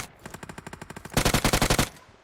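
Rapid automatic gunfire in PUBG Mobile, two close bursts of evenly spaced shots, the second burst louder and denser than the first, with no talking over it.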